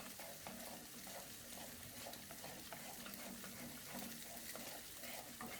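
Masala mixture frying on a high flame in a pan, a soft continuous sizzle with faint stirring scrapes, low and steady with no voices.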